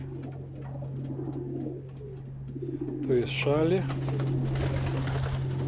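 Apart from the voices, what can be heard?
pigeons cooing in the loft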